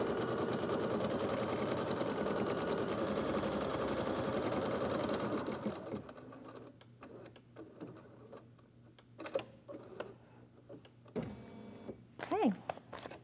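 An embroidery machine stitches a softie outline in the hoop, a steady dense mechanical whir for about six seconds that then stops, followed by quieter handling clicks and rustles with a voice speaking.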